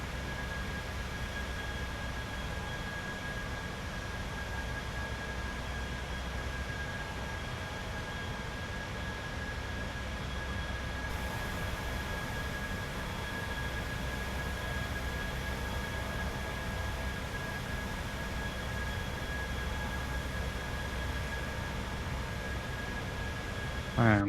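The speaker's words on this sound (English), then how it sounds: "why don't we have a bit of a look at our takeoff here" A steady, broadband roar of airliner engines during takeoff in a flight simulator game, continuous and even throughout with a constant tonal hum, with someone talking faintly over it.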